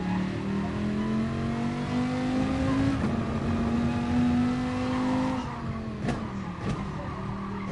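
A car under hard acceleration on a track, its engine note climbing loud and steady while the tires squeal, then easing off near the end as faint voices come through.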